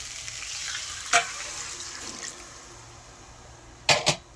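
Hot water goes into a pan of boal fish and potato curry with a rushing, hissing splash that fades into a quieter simmer, followed by a couple of sharp pan knocks.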